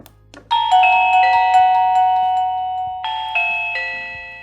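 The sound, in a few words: video doorbell chime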